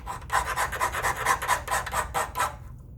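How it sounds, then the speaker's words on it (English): A hand file rasps across a small metal workpiece braced against a bench pin in steady back-and-forth strokes, about ten close, evenly rhythmic scrapes before it stops, with no talking. "I'm gonna keep filing until my line's gone."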